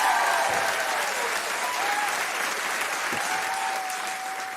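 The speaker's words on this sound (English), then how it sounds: "can we give him the round of applause?" Sustained applause from a large crowd, dense clapping that fades slightly toward the end, with faint whistles or cheers mixed in.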